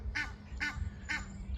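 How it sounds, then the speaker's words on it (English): Waterbirds and a Canada goose calling on a river: four evenly spaced honking quacks, fairly loud and close, over a low outdoor rumble. "there's a Canada goose watching them with intent"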